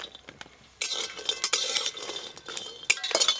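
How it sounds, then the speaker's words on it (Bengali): A metal spatula scrapes and stirs around a dry kadai before frying homemade lentil bori, giving repeated gritty scraping strokes and light clinks of metal. "একটু হালকা করে শুকনো কড়াই নেড়ে নিলাম"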